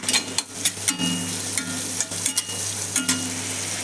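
Urad dal, chana dal, chilli and onion sizzle as a tempering fries in coconut oil, with a steady crackling hiss broken by repeated scraping stirs of a spoon in the pan.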